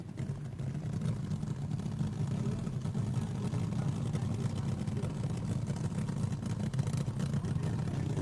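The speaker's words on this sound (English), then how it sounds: "Listen to that Ram Charger's motor." A loud, steady engine roar drones continuously throughout, thick and low with a constant rumble, from a Ram Charger drag racing car revving hard nearby at the 1971 NHRA Winternationals.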